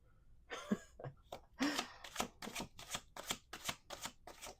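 Close, rhythmic tarot card shuffling: a few uneven riffles give way to a steady series of evenly spaced bridging snaps, alone without talk.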